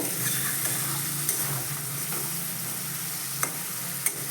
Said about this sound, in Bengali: এবার এর মধ্যে দিয়ে দেব আগে থেকে ফেটানো টক দইটা আর দিয়ে দেব হাফ চামচ মতো চিনি দিয়ে একসঙ্গে একটু ভালো করে মিশিয়ে নেব